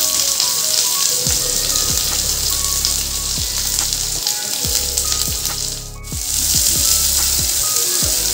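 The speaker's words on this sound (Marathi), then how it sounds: "मी इथं एक मिडियम आकाराचा कांदा भाजून घेते, तळून घेते" A medium onion frying in hot oil in a pan, a loud continuous crackling sizzle close by with a few sharp utensil knocks and a brief dip midway, no voices.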